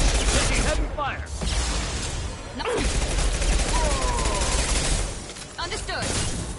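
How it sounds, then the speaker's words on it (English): Heavy gunfire from Mass Effect 2 Legendary Edition on Insanity difficulty, dense and continuous bursts throughout, with brief voice lines from characters over the shooting. "Taking heavy fire."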